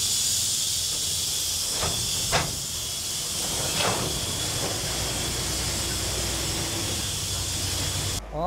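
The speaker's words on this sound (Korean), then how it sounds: "시속 5km. 천천히 움직이는 이 기차는 목포 사람들의 삶과 함께 해왔다." A slow train creeping at about 5 km/h along tracks through a neighbourhood in Mokpo, heard as a steady hissing rumble with a few faint squeals and clanks, fairly distant and continuous.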